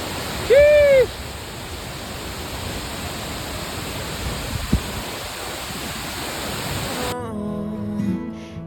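The Liwayway Falls waterfall roars as a steady, broad rush of falling water close by, continuous throughout, with a brief voice near the start and the sound cutting off sharply toward the end.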